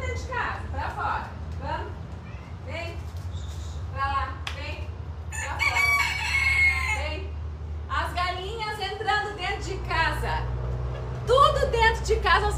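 Chickens cluck and a rooster crows indoors in a house, repeated calls close by, with people talking over and between them.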